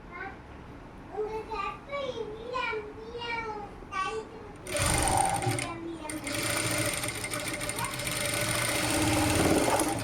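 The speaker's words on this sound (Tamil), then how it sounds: "இது அப்படியே நீங்கள் தைக்கணும்." A sewing machine stitches a blouse band, starting partway through as a loud, fast, steady mechanical whir that continues to the end, with a voice heard talking before the machine begins.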